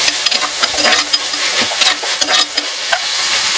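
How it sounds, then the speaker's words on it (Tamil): Onions sautéing lightly in a pan, a bright, close sizzle punctuated by repeated quick stirring scrapes, loud and unbroken with no talking. "வெங்காயம் லைட்டாக வதக்கிக்கலாம்"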